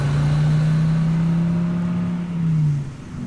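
A car engine revs hard and drones loudly as the vehicle pulls away fast, the steady tone holding for a few seconds before easing off.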